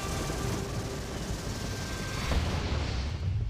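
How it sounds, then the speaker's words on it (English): Heavy gunfire in a 1942 SAS night raid on a desert airfield, aimed at the 20mm anti-aircraft gun that hit a Jeep; a dense, continuous roar of shots and blasts runs the whole stretch, swelling slightly near the end. "Sterling orders his men to turn their fire on the anti-aircraft gun that took out his Jeep."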